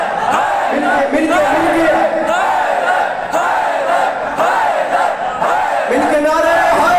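A large crowd of pilgrims on the road to Karbala during Arbaeen chants Haideri slogans in unison, a loud, continuous wall of massed voices that rises and falls in rhythmic waves for the whole stretch.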